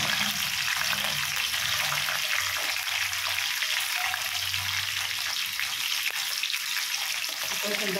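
Mustard seeds with green and red chilies fry in a generous spoonful of hot oil for lemon pulihora tempering, giving a steady, close crackling sizzle throughout with no talking.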